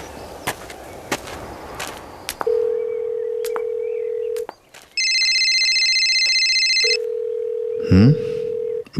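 A telephone rings with a sustained electronic tone in two long bursts, after a dial-tone-like hum and scattered clicks and knocks in a quiet room.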